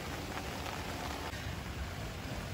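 Heavy rain pours down steadily beside a tilapia fish pond, a dense, even hiss of drops filling the scene at moderate loudness with no voices.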